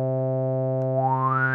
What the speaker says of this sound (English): So we can hear we have that same resonant sound, although a very different character from the previous filter